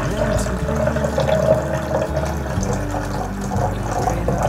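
Water running steadily into a tank monitored by an Arduino and ultrasonic level sensor, a continuous close rushing and trickling with a low pump-like hum throughout.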